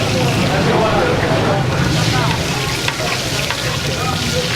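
Street food fries on a massive iron griddle at a busy Islamabad stall. A loud, steady sizzle runs throughout against crowded outdoor bustle, with voices talking nearby.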